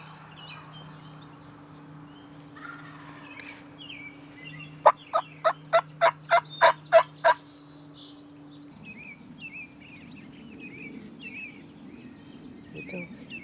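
A wild longbeard turkey gobbles once in a rapid burst of about eight sharp pulses during a spring hunt, heard at moderate distance over a low outdoor hum, with faint bird chirps before and after.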